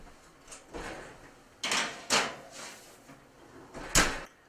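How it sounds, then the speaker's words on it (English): Oven door being opened and closed for an asparagus dish going into a 400-degree oven: several soft thumps and clunks spaced across the clip, with one sharp knock near the end, all fairly quiet and with no talk. "we'll pop this in a 400-degree oven for about 10-12 minutes"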